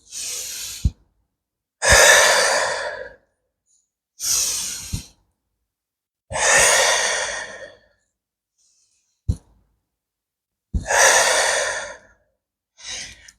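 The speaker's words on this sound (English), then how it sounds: "Inhale long, exhale." Long, deep yoga breaths in a slow rhythm: several drawn-out inhales and exhales, each a few seconds long and separated by silence, close and clear.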